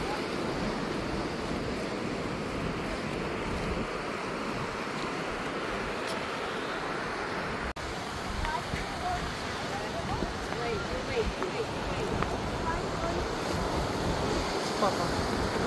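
Strong ocean surf breaking on a New Zealand beach, a steady loud wash of waves mixed with heavy wind buffeting the microphone, continuous throughout with no clear speech.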